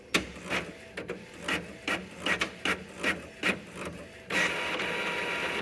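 An Epson WorkForce Pro WF-C8190 inkjet printer prints a page with a run of rhythmic mechanical clacks and ratcheting strokes, ending in a steady whirring feed, loud and close with no talking.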